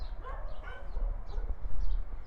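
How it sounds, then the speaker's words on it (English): Dogs shut indoors behind a porch door give faint, muffled whines and yips, rising and falling in pitch, heard at a distance under steady outdoor background noise. "the dogs are letting me know that I did not bring them with me out onto the porch"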